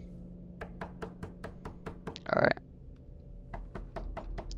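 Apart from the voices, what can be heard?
knocking on a door in horror video game Don't Go Down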